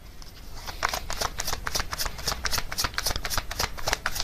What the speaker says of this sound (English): let's get some oracle cards for some more context here